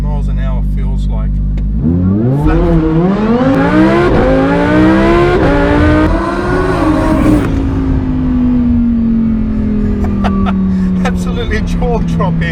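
A supercharged Lamborghini Huracan Performante launches hard from 0 to 60 mph, its engine roaring loud and close, pitch climbing steeply through a few quick gear changes before settling into a sustained high drone.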